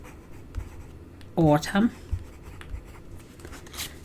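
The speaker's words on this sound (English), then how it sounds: "So I'm going to use a pencil and I'm just going to write" A pencil writes on paper with faint, soft scratching strokes, close by, while a voice briefly speaks over it.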